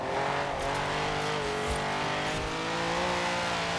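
Car drifting in Forza Horizon 4 gives a continuous, steady engine roar with tire noise, close and sustained for a few seconds with no talk.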